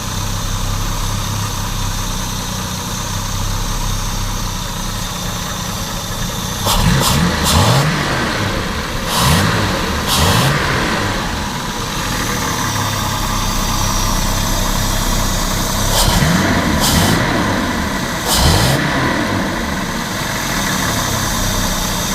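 A Jaguar 3.8 car engine with a crankcase vent problem idles steadily outdoors, with several throttle blips around the middle and again near the end, each rev rising and falling quickly.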